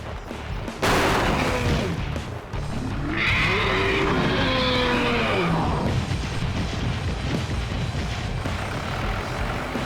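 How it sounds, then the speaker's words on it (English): A cartoon tractor engine cranks and sputters to life after a sharp start, then rumbles and revs unevenly with rattling mechanical noise, loud and close, with no voices. "Now, let's see if our tractor bug here will work. Let's crank it up and clear a path."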